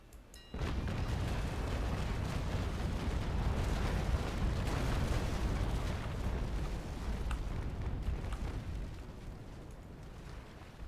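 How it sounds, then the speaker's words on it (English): Ship cannons fire a broadside in a Naval Action sea battle, a loud, sustained roar of booming blasts that blurs into a long rumble before it slowly fades. "we're probably actually going to take a double shot broadside here."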